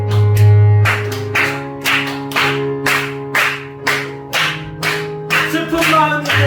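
A church congregation claps in steady unison while singing a hymn during Sunday worship, with loud, evenly spaced hand claps about twice a second over sustained sung and instrumental tones.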